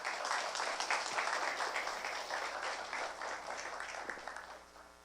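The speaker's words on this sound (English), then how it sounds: "Please welcome General Allen with a big round of applause." An audience at a cybersecurity forum applauds to welcome a speaker, brisk dense clapping that starts strong and gradually thins out, faint and distant in a hall.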